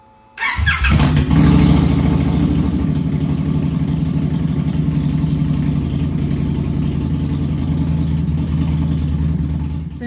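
A 2016–2022 Indian Scout motorcycle engine starts up after an oil change and settles into a loud, steady, throbbing idle that runs close by without any talk.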